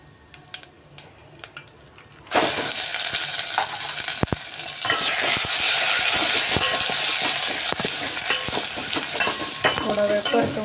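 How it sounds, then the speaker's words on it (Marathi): Cumin, asafoetida and ground spice paste hit hot oil in a wok for a Kolhapuri-style chicken rassa, bursting into a loud, steady sizzle after a quiet start, with stirring scrapes and spatters running throughout. "कढईमध्ये मी आता तेल गरम करण्यासाठी ठेवलेलं आहे त्याच्यामध्ये आपण थोडंसं जिरं हिंग पण घालणार आहे"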